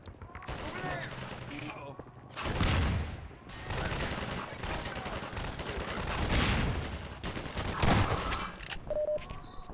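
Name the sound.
gunfire in the Half-Life 2 video game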